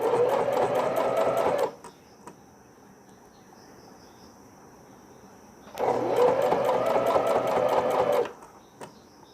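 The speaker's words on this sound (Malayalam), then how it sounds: "റിബ് ഫോൾഡ് ചെയ്ത് ഫസ്റ്റ് കാല് സ്റ്റിച്ച് ചെയ്യുക." A sewing machine stitches a newborn baby's underwear with folded rib trim, two loud runs of fast, even mechanical whirring separated by a quieter pause of a few seconds.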